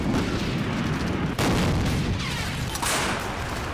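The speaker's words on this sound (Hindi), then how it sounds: "ये 155 mm की हॉवित्जर तोप है।" Loud, continuous booming and rumbling fills the whole stretch, with a couple of sharp blasts standing out, from a 155 mm howitzer firing nearby.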